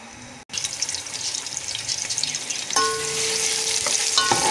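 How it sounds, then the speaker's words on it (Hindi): Sliced onion frying in hot oil, a bright crackling sizzle that starts abruptly and builds louder, with clinking utensil strokes partway through and no talk. "ऑयल में मैं फ्राई करूँगी इस प्याज को।"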